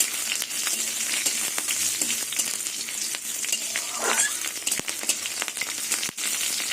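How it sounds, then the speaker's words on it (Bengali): Steady crackling sizzle of chilies frying in hot oil, continuous and close, with occasional stirring scrapes. "এই তেলের মধ্যে চারটে কাঁচা লঙ্কা ভেজে নেবো"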